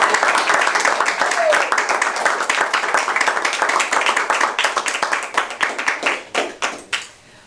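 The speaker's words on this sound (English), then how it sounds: "let's just give him a warm round of applause" Applause from the audience at a Toastmasters meeting after a member is congratulated, a steady round of many hands clapping that thins out and fades to a few scattered claps at the end.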